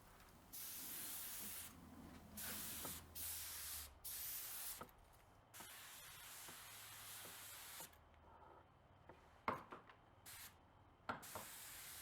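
Clear coat mixed with cross-linker and slip additive sprays from a spray gun in short bursts of airy hiss, with pauses and a few soft knocks between passes.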